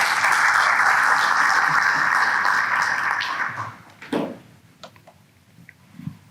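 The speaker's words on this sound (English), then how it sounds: "Big round of applause" Audience applause at a retail industry conference session, dense and steady clapping for about three and a half seconds, then fading out into a few scattered late claps and a brief voice.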